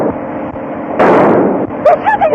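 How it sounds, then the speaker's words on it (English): Staged gunfire effect in a 1933 radio mystery drama: a loud, sustained burst of shots over a rumbling background, followed by sharper cracks near the end. "They're shooting at us."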